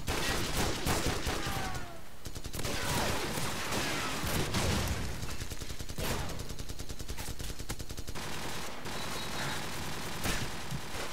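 Rapid automatic gunfire from the video game Call of Duty 4 crackles in dense, sustained bursts with scattered single shots, loud and continuous across the whole stretch.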